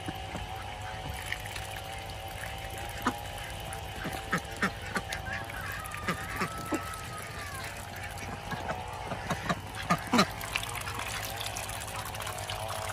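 Peking ducks at an outdoor pen, with honking, quacking calls popping up repeatedly over steady background noise, moderately near and mixed with faint water sounds.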